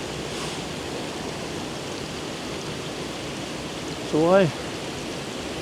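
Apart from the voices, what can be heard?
river rapid and waterfall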